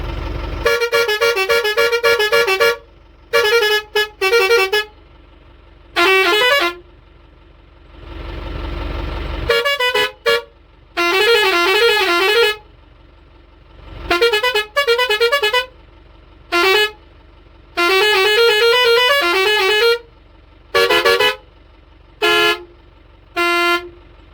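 Loud, multi-tone coach bus horn blasts repeatedly in short and long bursts, with a melodic musical pattern, close by and alone.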